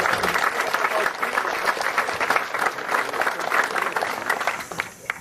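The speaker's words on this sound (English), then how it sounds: "Let's give all of our alumni groups another round of applause." Sustained applause from a large audience, dense clapping that holds steady and then tapers off slightly at the end.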